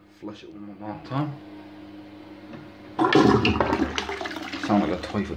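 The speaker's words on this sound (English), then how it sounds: "Flush it one more time." A heavy-tanked toilet in a house in Neath, Wales, flushes loudly about halfway through, a sudden rushing surge of water after a stretch of people talking, with voices continuing over the churn.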